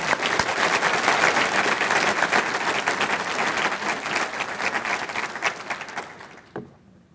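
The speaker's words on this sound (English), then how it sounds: "Let's give them another big round of applause." A large audience at a mayor's State of the City address gives city staff a big round of applause, dense sustained clapping that fills the room before tapering off at the end.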